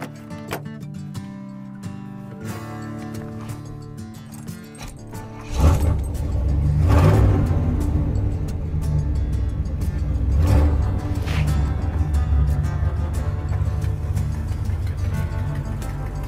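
A rebuilt 1991 Pontiac Firebird engine turns over and catches after a quiet stretch, then settles into a steady, rumbling run that stays loud and close with a brief rev partway through.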